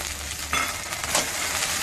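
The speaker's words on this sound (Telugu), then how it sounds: "దీంట్లోనే ఈ నూనెలే బేడి ఫ్రై చేసుకుందాం" Split chickpeas frying in oil in a pan for Benda Kaya pachadi, a continuous close sizzle with brief bursts as the pieces are stirred.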